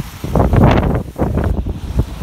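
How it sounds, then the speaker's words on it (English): Gusty wind buffeting the microphone on a street walk along Euston Road, Norfolk, a loud, close, low rumbling roar that swells and dips without a break, with no voices. "Yeah, the wind's getting up now."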